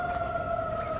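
An ambulance siren sounds beside a fire station as a steady two-tone wail. It is moderately loud and continuous over a low background rumble.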